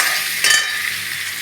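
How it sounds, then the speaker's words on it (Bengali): Potatoes frying lightly in oil, a close continuous sizzle with one brief louder scrape or stir midway, no speech. "এবার একটু আলুগুলো ভেজে নেবো হালকা করে"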